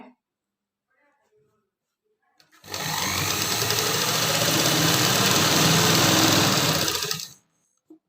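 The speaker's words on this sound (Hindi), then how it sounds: "और अब मैं इसकी सिलाई कर दूंगी चारों तरफ के।" A sewing machine runs steadily for about five seconds, stitching around a pocket on palazzo pants. The motor whirs loud and close and starts and stops abruptly, with brief quiet before and after.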